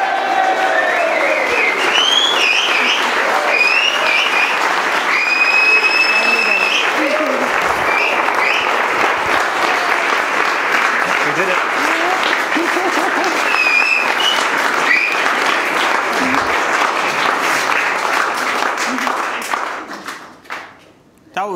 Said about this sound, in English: With some applause.